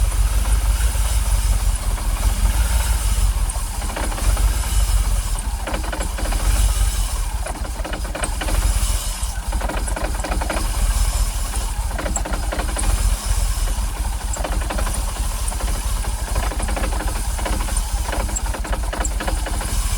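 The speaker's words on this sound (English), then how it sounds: "I've not touched the throttle at all, I've just started it up" A Jaguar XKR engine idles unevenly just after start-up with a suspected dirty MAF sensor, giving a steady close rumble with hiss and rough, uneven pulses for the full stretch, and no voices.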